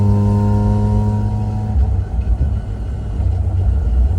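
A Mazda RX-8 hybrid-build engine holding a high, steady whine with strong harmonics at around 4,000 RPM, then dropping off into a rougher rumbling idle.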